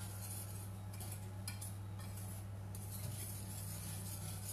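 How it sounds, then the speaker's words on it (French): Cake batter for a Normandy cake, made with light cream, being stirred in a bowl, with soft utensil scraping and faint clinks over a quiet, steady background hum. "Et vous mélangez"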